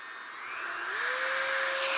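A rotary tool spins up to high RPM while polishing Glock trigger parts, a rising whine that settles into a steady, loud, close tone with no talking.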